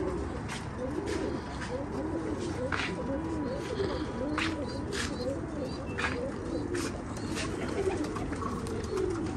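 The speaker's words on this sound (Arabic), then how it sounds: "طبعا ويانا طيور" Pigeons or doves coo repeatedly at a moderate distance over steady background noise, with soft chirps and faint voices mixed in.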